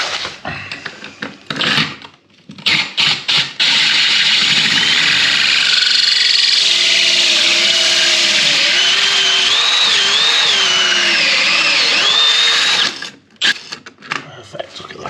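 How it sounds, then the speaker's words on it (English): A drill with a tile bit grinds loudly and steadily through dampened hard floor tile for several seconds, preceded and followed by short bursts and pauses. "So we'll soak the area, start drilling it out."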